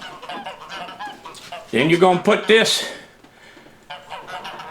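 A flock of geese honks loudly in a short, overlapping burst lasting about a second, close by. Someone talks quietly before and after the honking.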